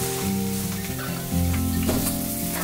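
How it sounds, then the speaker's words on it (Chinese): Pork ribs fry in a pan for a noodle soup broth, giving a loud, continuous close-up sizzle with crackling pops and no talking. "这排骨它要煎很久，这煎的有点香"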